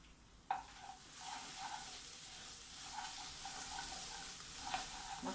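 Spice masala for dahi paneer fries in a pan, a soft continuous sizzle with occasional stirring clinks after an initial knock, fairly faint and with no voices.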